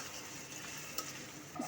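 Chopped onion and green chillies frying in oil in a wok, a soft steady sizzle with faint stirring scrapes and a couple of small clinks near the end, fairly quiet and close.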